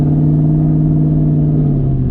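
A 2004 Ford Mustang GT engine droning loudly from inside the cabin with the windows down, a steady low V8 hum holding one pitch for about two seconds.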